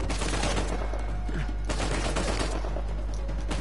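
Gunfire in the PS4 game Uncharted 4, a dense, loud, continuous fusillade of rapid shots and bursts crackling throughout without a break.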